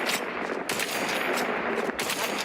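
Sustained rapid gunfire from The Outer Worlds 2 video game, loud bursts of automatic fire running without pause for a couple of seconds, with no talking over it.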